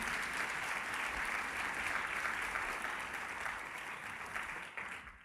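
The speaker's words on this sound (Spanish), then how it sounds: "Dele ese aplauso." A church congregation applauding during a sermon, a loud, sustained wash of many hands clapping that holds steady and then tapers off near the end.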